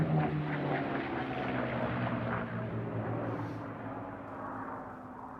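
A two-seat TF-51D Mustang piston propeller aircraft flying in formation at a VE Day air show, its engine drone steady and strong, slowly fading slightly as it passes at a distance.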